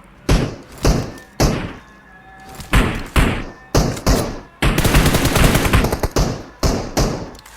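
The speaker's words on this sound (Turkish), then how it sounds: "Bomba attı bana." Loud gunfire and explosive thumps in a PUBG Mobile firefight, with a grenade thrown at the player: repeated sharp bursts and a sustained rattling volley, close and heavy, with no talk.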